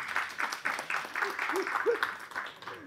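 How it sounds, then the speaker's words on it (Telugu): Audience at a film press meet for the movie Matthu Raa breaks into short, scattered applause, a patter of claps heard along with a voice speaking over it. "చప్పట్లు కొట్టండి ప్లీజ్"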